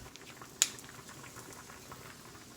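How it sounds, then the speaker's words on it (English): Onion gravy simmering in a pan as beer is poured in: a soft steady bubbling patter with one short sharp splash-crackle near the start, close and fairly quiet, with no talking. "I'm adding a little bit of beer."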